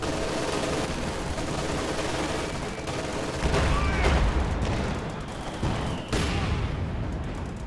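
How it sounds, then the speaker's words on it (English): Panzerwerfer rocket artillery fires in a video game battle, a dense rumbling barrage of launches and booms layered with gunfire and a faint voice underneath. "Panzerwerfer firing in this area on the captain."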